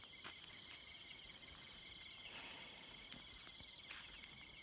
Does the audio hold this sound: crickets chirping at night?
yes